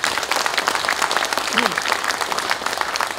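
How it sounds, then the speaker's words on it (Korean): Delegates at a national general assembly of police veterans give warm, dense applause, many hands clapping loudly and continuously, with a brief voice surfacing midway. "여러분 그분들께 뜨거운 감사의 박수 한번 보내주세요"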